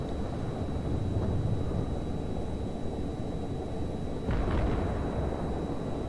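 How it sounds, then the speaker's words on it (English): Low rumbling booms roll under a continuous engine drone as a destroyer launches torpedoes in World of Warships, with a sharper burst near the end, loud and close with no talking. "I'm just launching torpedoes in his general direction"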